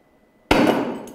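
A single hard hammer blow lands on a tile after near silence, giving a sudden loud crack with a bright, ringing tail that fades over half a second, close up.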